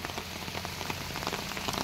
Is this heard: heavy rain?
yes